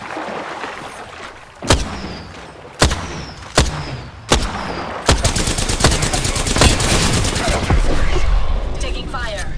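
Gunfire in a first-person shooter video game: several sharp single shots at roughly one-second intervals, then a loud sustained rapid burst of automatic fire with a voice speaking over it.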